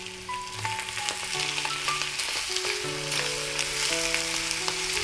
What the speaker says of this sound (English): Now I am going to saute it well.